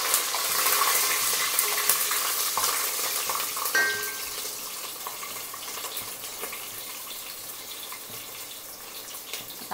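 Green chillies sizzle in hot oil in a pan for veg pulao, a steady crackling fry close up with brief stirring clinks.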